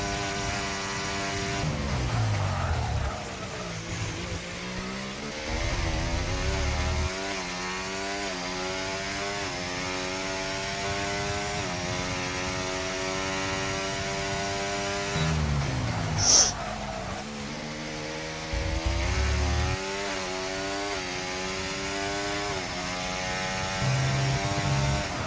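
In the racing game F1 24, an onboard Formula 1 engine howls through a lap, its pitch climbing through gears and dropping sharply at braking points, loud, close and continuous with no voices.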